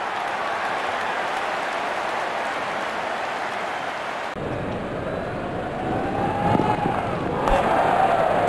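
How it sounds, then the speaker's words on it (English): A cricket stadium crowd roars in celebration after a wicket falls, a dense, continuous wash of cheering that shifts abruptly and swells louder toward the end. "And there comes the celebration in the crowd."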